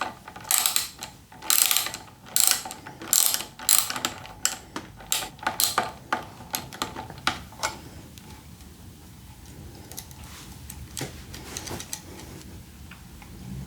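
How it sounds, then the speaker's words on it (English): A ratchet working a 10mm bolt and nut off a motorcycle brake lever, a close, rhythmic series of sharp clicks that fades into quieter, sparser ticks. "We're going to remove this bolt and of course the nut underneath"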